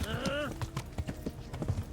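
Horse hooves cantering in the Kingdom Come Deliverance video game, a steady rhythmic clip-clop close by, with a brief whinny near the start and game voices underneath.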